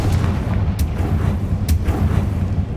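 A Confringo blasting spell in Hogwarts Legacy erupts into a rumbling explosive roar, deep booming energy sustained throughout with a couple of sharp cracks punching through the loud low-end blast.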